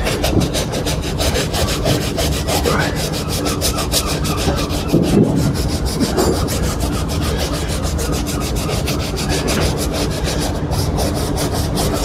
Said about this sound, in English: you see it's a nice hard brush. Get it in and scrub it until it dries out.